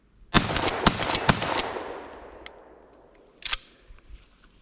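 A Remington 870 pump shotgun with feeding issues fires a fast string of three loud blasts, then one more shot after a short pause, each followed by a fading echo.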